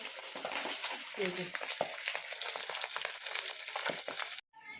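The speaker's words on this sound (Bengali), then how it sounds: "এভাবে করে পাবদা মাছ ভাজি করছি" Pabda fish fry in oil, a continuous close sizzle with occasional scraping and stirring clicks, a faint voice briefly murmuring, before an abrupt cut near the end.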